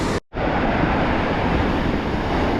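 Rough ocean surf pounds the shore in a loud, continuous wash of breaking waves, blended with gusty wind buffeting the microphone, after a brief cut near the start.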